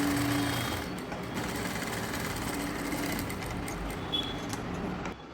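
A sewing machine stitches a churidhar top, its steady motor whir running continuously close up for several seconds with a brief change in pitch near the end and no talking.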